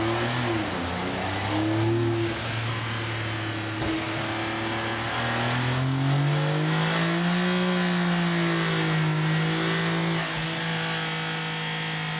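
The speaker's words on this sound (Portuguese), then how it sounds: "vou acelerar lá, o motor está em cima lá do dinamômetro de bancada" A car engine mounted out of the vehicle on a bench dynamometer revs up and holds high, its steady drone rising and falling in pitch over a long continuous run, loud and close with no talk.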